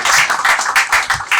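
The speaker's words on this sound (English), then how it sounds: "Can you just clap?" Close, loud clapping comes in short bursts from a small group, with sharp, uneven slaps repeating through a brief moment.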